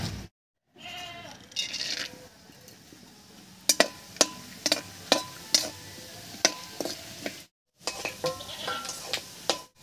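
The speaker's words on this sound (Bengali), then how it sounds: "তেলের মধ্যে প্রথমে ভেজে নেব কয়েকটা বাদাম।" Peanuts fry in hot white oil in a wok, giving a close, steady sizzle with a run of sharp, regular scraping knocks from stirring, briefly cut by two silent gaps.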